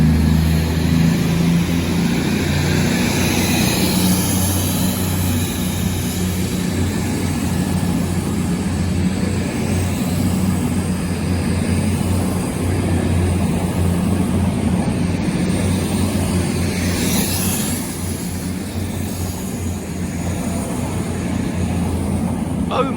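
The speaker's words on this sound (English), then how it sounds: "going out now is the 1515 Cross Country service to Edinburgh." A Class 221 Cross Country diesel train, a double unit, pulls out of Cheltenham Spa station, its engines droning loudly and steadily as it powers away, with a brief swell of noise partway through.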